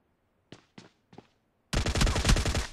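Gunfire in the mobile game PUBG Mobile: three spaced single shots, then a sustained, loud automatic burst of rapid fire.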